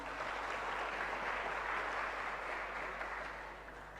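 Audience applause at a university student orientation speech, a soft, distant wash of clapping holding steady and tapering slightly at the end.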